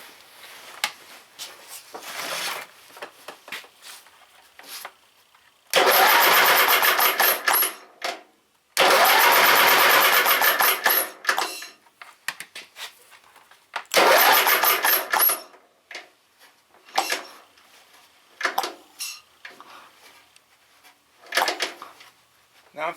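A Briggs and Stratton opposed twin-cylinder engine cranks and runs in short bursts with pauses between, amid clicks and handling noises, loud and close.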